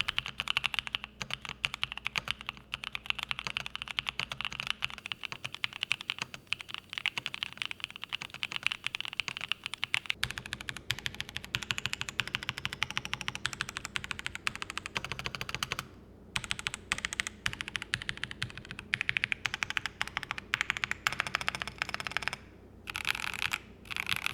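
Rapid, continuous clacking of keys on a 75% carbon mechanical gaming keyboard, close and crisp, with brief pauses between bursts of typing.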